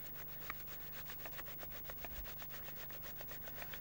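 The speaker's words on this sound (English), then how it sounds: "Now this is quite a fine grate on here." A courgette is rubbed quickly back and forth on a fine, sharp microplane grater. It gives a soft, rapid, evenly rhythmic rasping close by that stays fairly faint and carries no speech.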